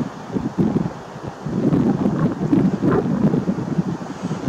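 Strong outdoor wind gusts hard against the microphone in a rough, rumbling roar that surges and rustles without letting up.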